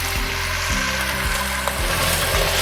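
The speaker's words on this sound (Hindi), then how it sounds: "इसको अच्छी तरह फ्राई करेंगे" Chicken frying in about half a cup of oil with garlic and ginger over a medium flame, giving a steady close sizzle with low rhythmic thumps from a stove or hood, no voices.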